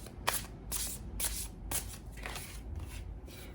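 Tarot cards are shuffled by hand in quick riffling bursts, several crisp papery flutters separated by short pauses, close and fairly quiet.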